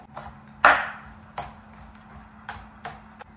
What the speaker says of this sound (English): I'm going to chop 2 green onions